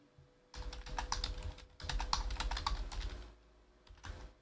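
Quick bursts of typing on a computer keyboard while entering slide text in presentation software, close and fairly soft, with two clusters of rapid key clicks separated by brief pauses.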